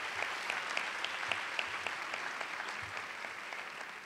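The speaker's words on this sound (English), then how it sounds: "Let's give him a round of applause and thank him." Audience applause at a mayor's public event on a pre-K initiative, honoring a deputy mayor. Even, continuous clapping from a crowd with occasional sharper individual claps standing out.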